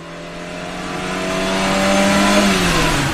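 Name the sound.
car driving away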